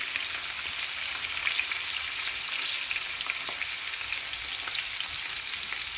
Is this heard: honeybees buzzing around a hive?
no